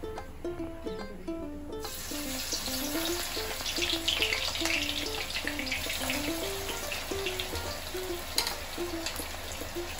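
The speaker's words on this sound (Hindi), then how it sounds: "ऑनियन फ्राई करना है, बिल्कुल ब्राउन क्रिस्पी होना चाहिए, इसके लिए थोड़ा ज़्यादा घी होना चाहिए" Onions fry in a generous amount of ghee until brown and crispy for Kolkata dum biryani, a steady close sizzle with soft stirring, under a light melodic background tune.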